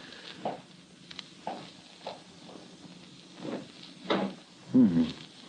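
Old-time radio drama door effect: a handful of soft thuds and creaks spaced across a few seconds, ending with a louder scraping creak as the door swings open, close and alone without talk.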